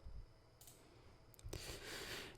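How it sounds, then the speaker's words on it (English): A computer mouse gives a couple of small, faint clicks against soft room noise, followed by a brief rustle. "I'm going to right click this and open in Wireshark"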